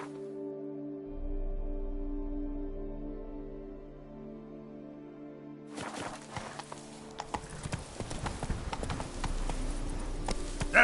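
Roach the horse in a video game trots along, with steady clip-clopping hooves rising over a sustained musical drone, fairly close and with no voices.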